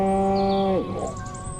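A cow in the video game Destroy All Humans! lets out a single short, low moo that slides down in pitch at the end, with faint ambient game sound behind it.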